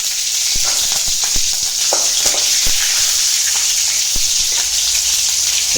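Cumin seeds and bay leaves sizzle in hot oil in a home kitchen, a loud, steady hiss broken by sharp pops and crackles, close by with no voices.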